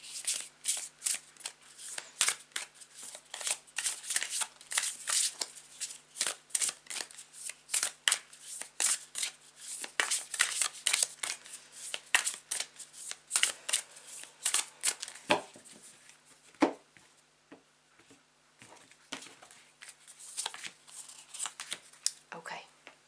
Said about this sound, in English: I'm going to grab a couple of cards from this oracle deck